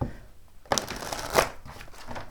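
Tarot cards riffle and shuffle close by in two quick bursts, separated and followed by quieter handling noise.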